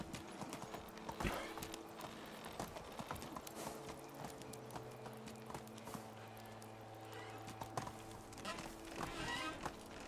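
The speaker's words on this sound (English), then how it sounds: "There's a horse in the house." Horse hooves clip-clop steadily at a walking pace in the medieval farming game Medieval Dynasty, alongside faint ambient game sounds and occasional taps.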